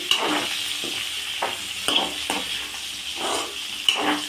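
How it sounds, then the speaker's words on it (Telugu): Potato and okra curry stirred in a sizzling pan, a spoon scraping and turning the vegetables in rhythmic strokes over a constant close frying hiss, with no voices. "ఆలుగడ్డ అవన్నీ మంచిగా బెండకాయ అన్నీ మగ్గినాం ఇట్లా ఇట్లా అన్నీ కలపండి"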